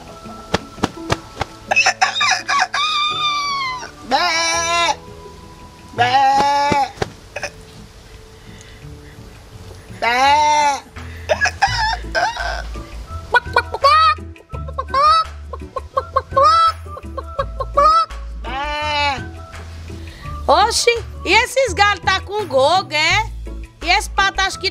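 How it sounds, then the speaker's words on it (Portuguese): Startled chickens cluck and squawk near a pigsty, with a rooster crowing among loud, agitated bursts of fowl calls, while people talk over and between them. "Um barulho desse, as galinhas espantadas."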